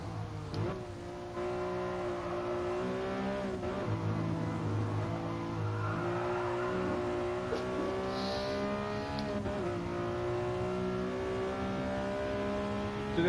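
A road car's engine revs and accelerates in the GT Sport racing game, droning steadily with repeated gear shifts and rising pitch, loud and close without talk.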